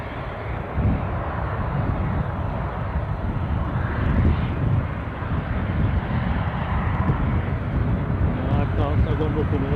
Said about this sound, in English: I see an Eastern Airlines Jetstream 41 on its way out.